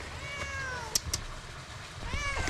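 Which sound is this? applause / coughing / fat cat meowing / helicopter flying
fat cat meowing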